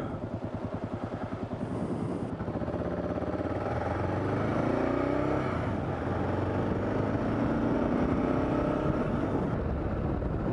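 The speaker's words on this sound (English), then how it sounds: "There it is, my first 6th gear pull of the season. Bike feels nice, running well." A motorcycle accelerates hard in sixth gear on a back road, its engine note rising steadily over a constant rush of wind, loud and close throughout.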